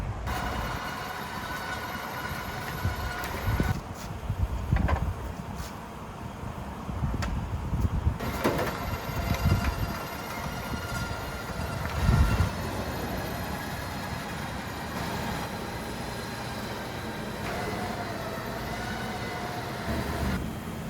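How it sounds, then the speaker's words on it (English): An electric winch pulls a VW diesel-swapped Suzuki Samurai into a shop, giving a continuous motor drone broken by several louder thumps and clanks. "So I got my winch hooked to it."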